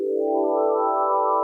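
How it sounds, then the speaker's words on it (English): A supernova rendered as space sound: a steady, loud harmonic drone with stacked tones that swell slightly in brightness, heard alone and unbroken for the whole span. "No way. Supernovas sound like this?"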